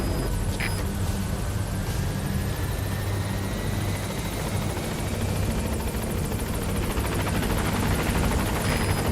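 A support helicopter arrives in the stealth game Metal Gear Solid V: The Phantom Pain. Its steady rotor drone and engine roar carry on unbroken and fairly loud, with a faint radio voice heard briefly.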